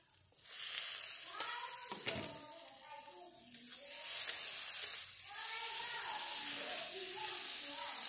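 Tomato and spices hiss and sizzle loudly in hot oil for a home-cooked taro stalk and fish dish, with a voice talking over the steady frying.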